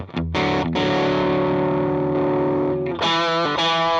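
Electric guitar through a Tube Screamer into a cranked Deluxe Reverb amp: a loud, distorted chord rings out and sustains for several seconds, then two fresh chords strike near the end.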